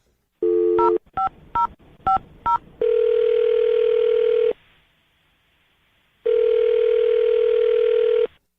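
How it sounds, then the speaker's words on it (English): A telephone number is dialed: a short steady tone, then a quick run of six crisp keypad beeps, followed by two long, loud electronic tones separated by a silent gap, clean and close with no talking. "we're going to dial her number right now"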